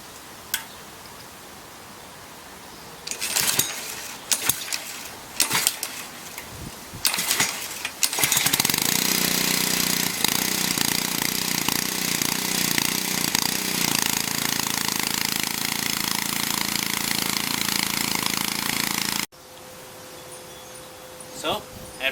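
A pressure washer with a newly fitted pump runs on a Honda XR engine: scattered knocks and clatter first, then a loud steady engine drone with hissing spray for about ten seconds before it cuts off abruptly.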